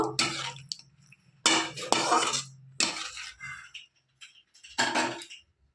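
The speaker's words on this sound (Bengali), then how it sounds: "গরম মশলা গুঁড়ো দিয়ে একটু নাড়াচাড়া করে নেব" Garam masala powder stirred with butter in a pan for butter paneer, with several separate bursts of spoon scraping and clinking against the metal pan, close and moderately loud, separated by short quiet gaps.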